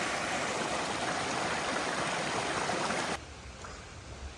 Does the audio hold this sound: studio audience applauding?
no